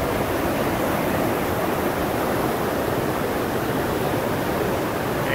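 Vernal Falls in Yosemite thunders as a loud, close, steady roar of falling water, a dense continuous hiss with no break or variation, heard without any talk.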